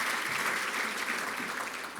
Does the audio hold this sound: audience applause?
yes